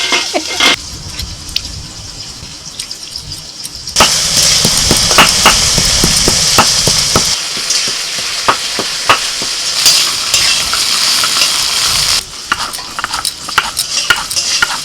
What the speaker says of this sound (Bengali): ঢেঁড়সটা একটু ভেজে নেওয়ার পর দিয়ে দিচ্ছি পেঁয়াজ